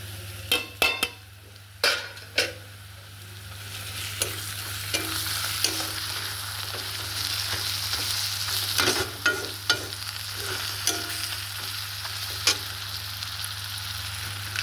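Fried ginger and garlic sizzle steadily in a pan as turmeric and chili powder go in for a mustard chicken curry, with a spoon scraping and clinking against the pan at intervals.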